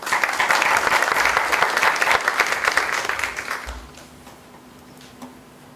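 An audience at an international forum on Latin America applauds to welcome a speaker, Dr. Garrido. The dense, steady clapping is loud for several seconds, then thins and dies away into near quiet.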